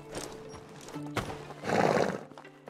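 A horse in the video game Medieval Dynasty gallops with clip-clop hoofbeats and lets out a loud neigh, close and short.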